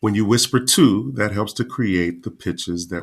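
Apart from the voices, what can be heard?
No everyday noise stands out behind the speech.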